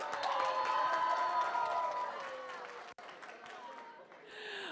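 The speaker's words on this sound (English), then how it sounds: "And can I hear some noise for our Red Alliance?" A crowd at a FIRST Tech Challenge robotics competition cheers and shouts for the Red Alliance, with loud, continuous noise and high yells. The cheering fades briefly near the end, then swells again.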